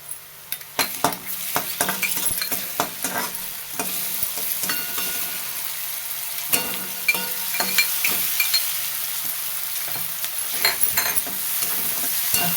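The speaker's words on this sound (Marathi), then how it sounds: "तेलात परतून घ्यायची हिरवी मिरची" Green chillies frying in hot oil in a pan while being stirred, steady sizzle under repeated scraping and clinking strokes of a spoon against the metal, close and continuous with no talk.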